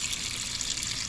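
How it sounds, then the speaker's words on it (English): Water gushes steadily from a tap into a cooking pot holding pig tails, a close, continuous rushing pour with no talk over it. "As we use that, you want to put some water in there, okay?"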